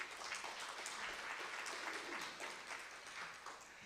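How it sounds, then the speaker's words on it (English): An audience at a university storytelling showcase gives a round of applause for a group of students, a continuous wash of many hands clapping, heard faintly and from a distance. "Let's give them a round of applause"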